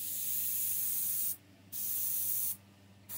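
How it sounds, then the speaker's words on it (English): An airbrush sprays paint in two close, hissing bursts, each about a second long with a short break between, and no one talks over them. "you pull the trigger, you let it start spraying paint"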